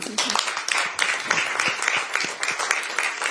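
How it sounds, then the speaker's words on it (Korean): Audience applause at a Korean political party meeting, dense and continuous with individual sharp claps poking through the steady patter for the whole stretch. "그동안 고생하셨으니까 박수 한번 부탁드립니다."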